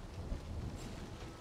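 Steady rain in the video game Dying Light 2 hisses and patters in a soft, continuous wash with low rumbling underneath, no voices present.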